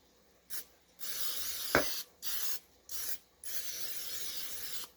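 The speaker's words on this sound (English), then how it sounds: "I'm just going to lightly spray my dish" Short bursts of cooking spray hiss into a baking dish, four or five separate sprays of varying length, close by and fairly soft, with a brief clink partway through.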